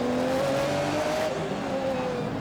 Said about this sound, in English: Andy Pilgrim in the Corvette, the number 4, has just gotten by.